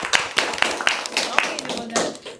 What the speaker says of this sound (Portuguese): palmas pro Davi